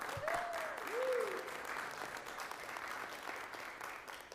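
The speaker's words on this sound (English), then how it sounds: "Let's give her another round of applause." A small audience at a town council meeting claps for a volunteer, a moderate burst of applause that keeps going at a steady level, with a brief voice near the start.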